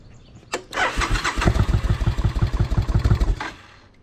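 An old motorcycle with choke on and a leaking exhaust cranks and catches after a sharp click, then runs in a fast, loud, pulsing chug for a few seconds before cutting out, close up with no talk.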